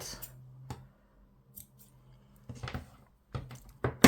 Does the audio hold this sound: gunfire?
no